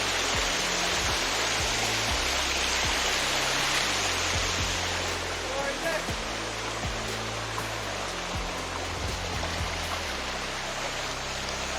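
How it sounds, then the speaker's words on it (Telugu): Steady rushing water fills the scene, a small waterfall splashing continuously close by, broadband and even throughout with no voices. "దీని వాటర్ ఫాల్స్ అనొచ్చు కానీ మినీ వాటర్ ఫాల్స్"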